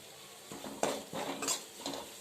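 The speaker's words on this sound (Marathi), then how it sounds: "मीठ परतून घेते आपली भाजी मी छान परतून घेतली" Vegetables tossed with salt in a pan, a few close scraping stirs of a spatula against metal over a soft background hiss.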